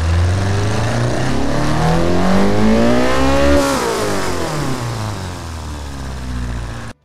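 Four-cylinder engine fitted with a huge turbo revs hard, pitch climbing steadily then falling away as it winds down, loud and close before cutting off abruptly.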